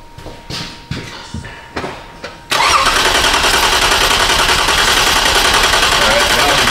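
A Toyota Sienna with a P0340 camshaft sensor fault: a few uneven cranking sounds mixed with brief talk, then the engine catches and settles into a loud, steady, close-up run.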